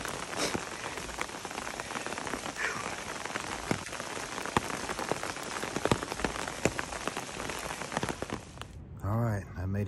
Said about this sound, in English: it rained all day, just torrential downpour